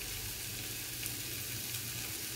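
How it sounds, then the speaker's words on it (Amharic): Chicken pieces frying in a pan for an Ethiopian stew, a steady close sizzle with faint stirring, no speech over it. "አሁን እዚህ ጋር ስጋ ላይ ስጋዬን እጨምራለሁ ማለት ነው"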